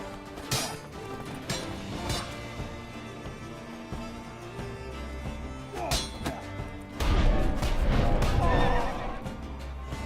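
A horse neighs in the Witcher 3: Blood and Wine game during a mounted fight, with hoof clops, thuds and blows in a busy mix of combat noise and music, loudest near the end.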